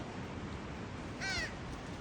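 A single crow caws once, short and raspy, against a steady outdoor background hiss, as birds pester people for chips.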